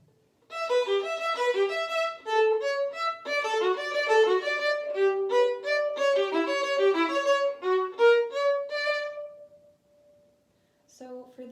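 Solo violin playing a fast tutti passage from a Vivaldi concerto, busy repeated note patterns running steadily for about nine seconds, close and clear, ending on a held note before a brief faint resumption.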